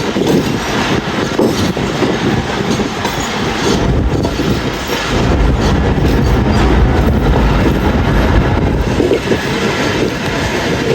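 A train slowing down and stopping at Attock railway station rumbles loudly nearby with rattling wheels and clatter, a continuous mechanical roar from start to finish.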